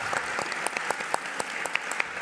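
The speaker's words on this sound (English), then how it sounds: "Big round of applause for our panelists" Steady applause from a crowd, dense clapping throughout with a few sharper individual claps standing out.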